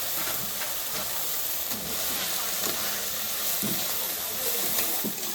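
Leafy greens fry with salt and turmeric in a pan, giving a steady broadband sizzle with faint scraping clicks, unbroken and close throughout.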